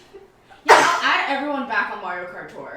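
A single sharp sneeze bursts out close to the mic during a casual live mukbang, followed by a breathy tail, with people talking around it.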